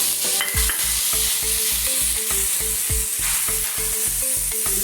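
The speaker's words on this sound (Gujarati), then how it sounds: "ધીમા તાપે આપણે આને સરસ ફેરવવાનું છે." Cumin, ginger, garlic and onion masala frying on low heat while being stirred, a close, continuous sizzle punctuated by a steady, rhythmic series of metallic spoon scrapes and knocks against the pan.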